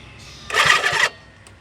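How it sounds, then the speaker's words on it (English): Starter motor cranks a two-stroke engine that turns over hard: one short, rough whirring burst of about half a second, close and loud, with no catch or firing. "Alright, starter spins over."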